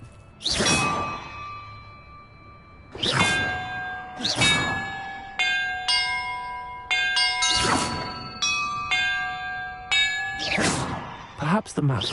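Bells rung in Hogwarts Legacy: a series of loud, clear metallic strikes, each ringing out with long sustained tones, some spaced apart and others in quicker succession, alone without talk.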